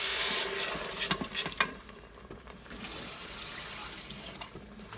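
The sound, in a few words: water being poured into a cooking pot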